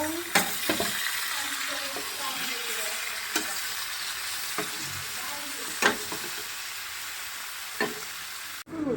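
Onion, tomato, turmeric, salt, chili and spices fry in a pan with a steady background sizzle, broken by several sharp stirring scrapes and clinks at irregular intervals.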